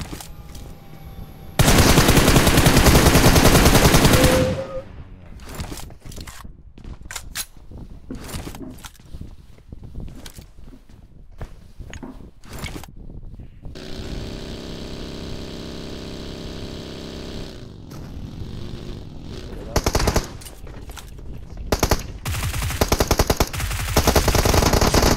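Automatic gunfire in PUBG Mobile, a long loud sustained burst near the start followed by scattered shorter shots, with game engine hum and ambient noise throughout and brief spoken exclamations.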